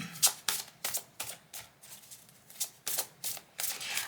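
Tarot cards being shuffled for a reading, a series of crisp riffling bursts about every half second, close and clear, with no voices.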